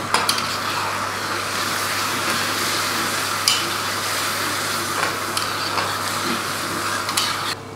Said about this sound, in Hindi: अब हम इसमें 1 कप दही शामिल करेंगे।